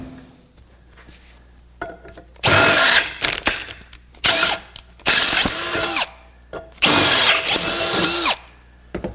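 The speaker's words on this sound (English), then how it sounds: "So you can pause it for now and we'll drill them out." A power drill boring out punched holes in a steel bender mount, loud whining bursts of two to three seconds separated by pauses, the motor winding down after each run, no talk.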